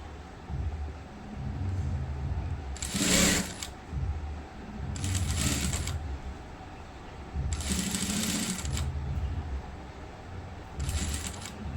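A sewing machine stitches the front neck of a blouse, whirring in four short bursts separated by pauses, loud and close.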